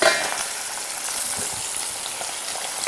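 Sardines frying in a pan for mathi pollichathu give a steady, dense hiss of sizzling oil, loud and close, with faint occasional pops and clinks and no talking.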